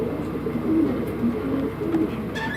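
Native Adana Sakar pigeons coo repeatedly inside a loft, soft low rolling calls overlapping close by with faint background chirps and no talk.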